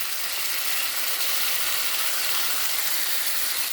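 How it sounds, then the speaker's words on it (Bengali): Garlic paste mixed with a green chilli fries in a pan in a village kitchen, giving a steady, dense, close sizzle that holds evenly throughout with no voices. "রসুন বাটাটা একটু ভেজে নেব"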